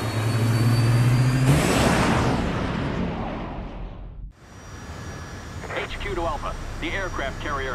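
A plane roars through a combat mission in the video game Resident Evil 6, a loud engine rush that sweeps past and fades, then a lower drone under brief game dialogue.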